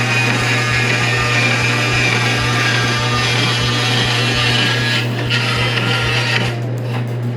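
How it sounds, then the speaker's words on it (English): A bandsaw cuts through solid maple in a workshop, a steady loud whirring drone with a low hum and grinding bite of the blade into hardwood, continuous for the whole stretch and easing slightly near the end. "See how good I can do on the bandsaw cutting straight lines."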